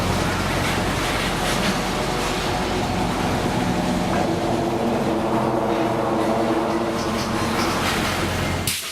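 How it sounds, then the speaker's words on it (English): Tropicana freight train of refrigerated reefer cars being broken up in a yard, a continuous low rumble and rolling noise with faint metallic squeals and clanks throughout, no voices. "As the Tropicana train breaks up its consist"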